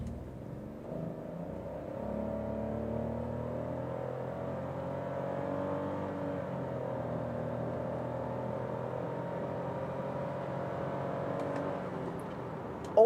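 Citroën C3 Aircross in Sport mode accelerating hard from a stalled launch, a steady engine drone with rising and shifting harmonics that holds for about thirteen seconds, heard from inside the cabin.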